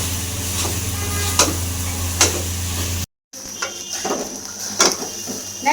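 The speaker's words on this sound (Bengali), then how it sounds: "দেখেন, মাংসটা কিন্তু আমার ভাজা ভাজা হয়ে আসছে" Meat frying in a pan with no water added, a steady low sizzle broken by occasional sharp clicks of a utensil against the pan, with a short silent gap partway through.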